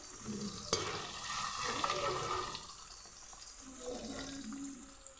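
Ivy gourd pieces deep frying in hot oil for a fry curry: a continuous bubbling sizzle with stirring scrapes, a sharp clink near the start and quieter frying toward the end.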